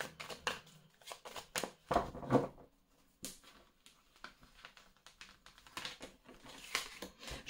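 A deck of tarot cards is shuffled close by: a string of crisp, irregular riffles and soft slaps come in bursts with short pauses between them, and no one speaks.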